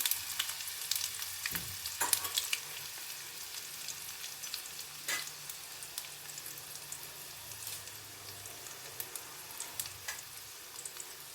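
Garlic and dried red chillies frying in a pan for dosakaya pappu, a soft steady sizzle with scattered crackles and a few sharp stirring clicks, no voices.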